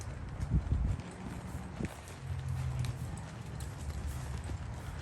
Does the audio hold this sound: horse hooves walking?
yes